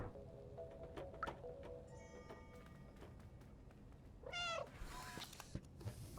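In the Stray video game, a cat gives a clear, wavering meow near the middle and a shorter cry after it, over faint clicks, ticks and ambient city sounds.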